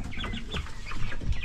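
Broiler chickens about 28 days old clucking in a coop, a few short close clucks and chirps over a soft, busy background.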